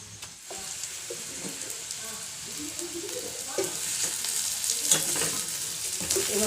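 Maggi instant noodles and spices frying in a pan, a steady close sizzle with stirring scrapes, alongside faint intermittent background sounds and a brief voice.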